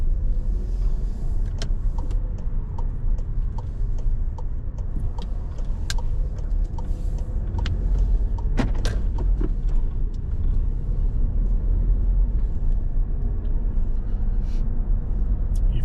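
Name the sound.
car driving off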